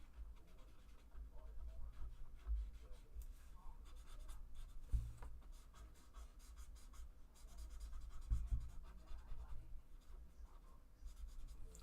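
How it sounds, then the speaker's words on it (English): Pencil shading lightly across layered mixed-media junk journal paper, a soft continuous scratchy scraping with brief pauses, faint and close, no talking. "everywhere I put pencil, I'm going to do some light shading"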